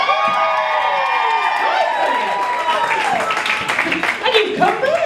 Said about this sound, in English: give me a cheer if you've seen me perform live